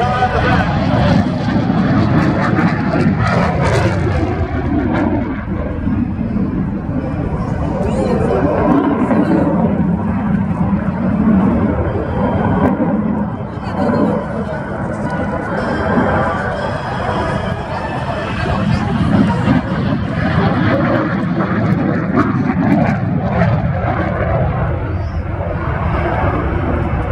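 F-16 fighter jet at the March Air Base air show flying past with afterburner lit, a loud continuous roar that swells and fades over a long stretch, with crowd voices mixed underneath.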